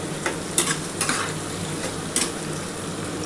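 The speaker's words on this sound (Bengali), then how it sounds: "দেখো পেঁয়াজটা ভাজা হয়ে এসছে" Browned onions frying and sizzling in a pan while a chicken dak bungalow curry is cooked, a steady sizzle broken by a few sharp stirring scrapes close by.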